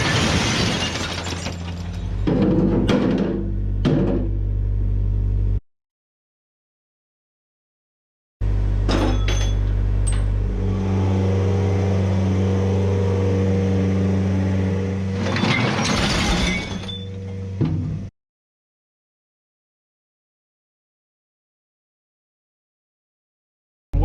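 A skid steer loads junk cleared from under a shop bench onto a truck: loud crashing, rattling metal and clattering debris over a steady engine rumble, broken by two stretches of silence.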